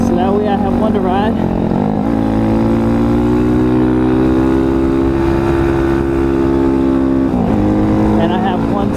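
A steady, loud engine drone from an Apollo RFZ Chinese dirt bike while it is being ridden, held at a fairly constant pitch with brief dips where the rider eases off and the revs shift.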